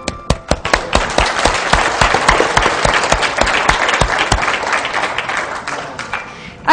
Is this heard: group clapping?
yes